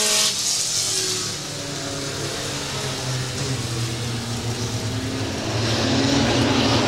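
Pro Four and A-Mod race cars at a USRA oval track roar out of turn four onto the green flag, a dense wall of engine noise that is loud and continuous and swells slightly as the field accelerates past.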